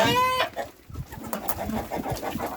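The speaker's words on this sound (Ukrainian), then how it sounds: "Це курка, їм нравиться лозити." Chickens cluck softly in short, scattered calls close by, with a brief higher bird call at the start and light rustling noise throughout.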